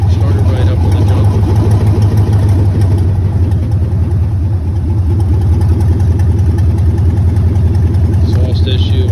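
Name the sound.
2001 Chevrolet Tahoe engine idling, possible exhaust issue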